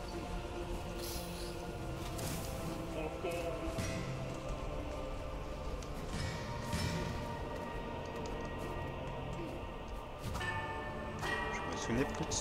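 A bell rings out in the video game Silksong, several clear chimes with lingering tones over a soft ambient backdrop, while someone talks throughout.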